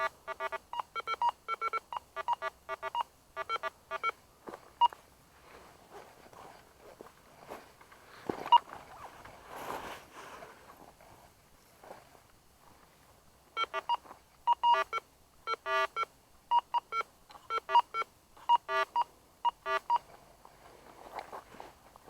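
A Go Find 40 metal detector sweeps over a target, giving bursts of rapid electronic beeping tones in repeated clusters, with quiet rustling in a gap between them.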